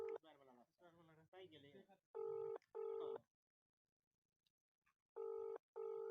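A telephone is dialed: bursts of keypad tones, two long beeps and then two more after a pause, come in close and loud after a stretch of talking.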